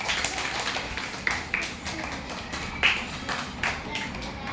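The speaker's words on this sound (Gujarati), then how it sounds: "ઓ ભાઈ તાળી પાડો જોરદાર" A group of people clapping in a classroom during a number-consolidation activity, with uneven bursts of hand claps and taps over background chatter and voices.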